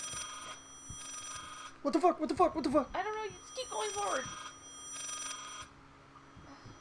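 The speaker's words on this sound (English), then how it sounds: "Oh, it is a phone." A telephone in the horror game Layers of Fear rings in regular bursts of a bright electronic trill, faint and steady in the background while two people talk over it.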